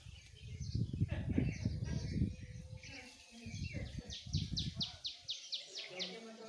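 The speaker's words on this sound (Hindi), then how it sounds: "काफ़ी प्यारी आवाज़ आ रही है चिड़ियों की, क्योंकि बहुत सारे पौधे हैं यहाँ पे" Several kinds of birds sing among the plants of a home garden, with a rapid series of sharp chirps repeating near the end, while a person talks quietly over them in the foreground.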